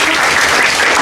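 Loud, dense applause from a chemistry conference audience, many hands clapping close and continuously in a short, unbroken burst.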